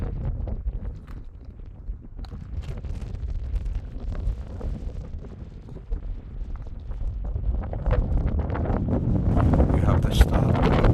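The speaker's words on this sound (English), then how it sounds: "The wind's still up." Strong wind buffets the microphone outdoors on a Lanzarote volcano, a steady broadband rumble that builds louder toward the end, with no speech.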